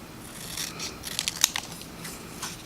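Scissors snipping through paper while trimming a scrapbook page, a quick run of close, crisp cuts clustered in the middle of a quiet moment.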